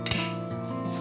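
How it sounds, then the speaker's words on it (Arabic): Salad ingredients including tuna and boiled potato tossed in a bowl: a short clatter of utensils against the dish, with a sharp clink near the start and then soft, continuous scraping. "دابا غادي نخلط كل شيء، نجمع كل شيء في البول"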